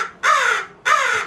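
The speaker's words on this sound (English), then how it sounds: "Cherry was even cawing in the back there." A pet crow outdoors gives two loud, harsh caws in steady succession, close by and alone with no talking.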